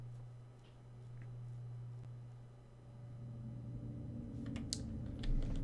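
Rapid clicking of a mechanical computer keyboard being typed on, steady and fairly close against a low background hum, with no voices.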